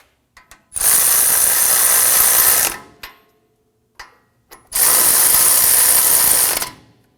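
A powered ratchet snugs down hub bolts on a 2015-2020 Ford F-150 during a front wheel bearing and hub replacement: two loud, sustained whirring bursts about two seconds each, with short clicks in between and near silence around them.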